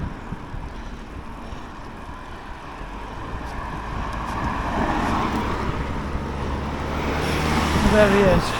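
A car comes up from behind a cyclist on the road and passes, its tyre and engine noise swelling gradually over steady road and wind rumble, with a brief electronic beep near the end.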